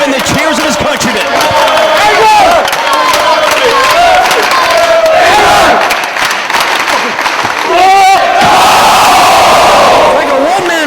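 Loud, dense roar of a Liverpool wrestling crowd cheering and shouting at a Ring of Honor match, sustained throughout with rising bursts of yells and whoops, swelling again near the end.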